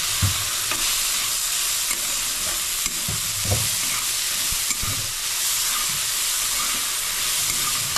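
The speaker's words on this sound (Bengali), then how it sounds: "এখন আমি আলুটা মিশিয়ে নিচ্ছি" Potatoes with salt being stirred in a hot pan for aloo jeera, a steady sizzling fry with repeated scraping and stirring knocks close by, no voices.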